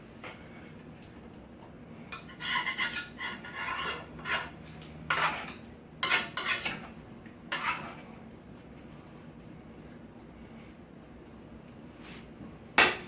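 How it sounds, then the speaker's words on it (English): Vegetables dropped into a pot of brown stewed chicken in a home kitchen, giving scattered clatters and knocks in short bursts over about eight seconds, then near silence with one last knock at the end. "Put all the vegetables in there."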